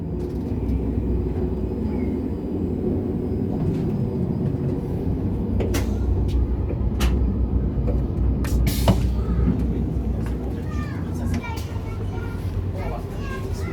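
Rumbling interior of a TGV inOui high-speed train at Dax station, a steady low mechanical drone with intermittent clanks and brief hisses, while people talk over it.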